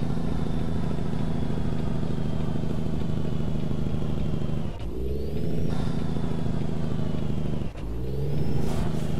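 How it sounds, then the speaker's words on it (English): Truck engine brake in American Truck Simulator, a loud continuous rumbling diesel drone with sharp drops and recoveries in pitch as the revs fall and rise, no talk. "Oh yeah, listen to that engine brake."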